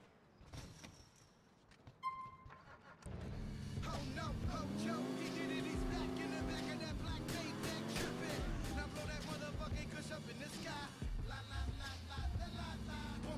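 Car engine from GTA IV gameplay, steady revving drone rising and falling as the vehicle drives, loud and continuous after a brief quieter start, with a voice talking over it.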